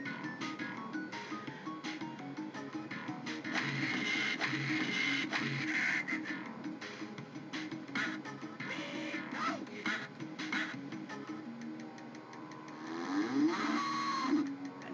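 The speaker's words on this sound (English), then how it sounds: "I never understood what the flying cow ever had any meaning in that level." In the Earthworm Jim video game, a flying cow moos amid busy game music and sound effects, all at a moderate level.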